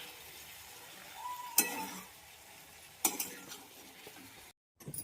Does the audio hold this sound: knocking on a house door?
no